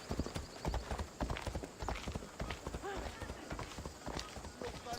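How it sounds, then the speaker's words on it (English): A horse's hooves clip-clop in quick, regular beats, close and fairly prominent, while people talk in the background during a roleplay game session. "Here, horse is coming up."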